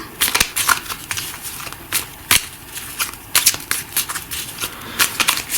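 Game cards for a board game are shuffled by hand, giving a close series of sharp riffling snaps and flutters in irregular bursts, with no talking.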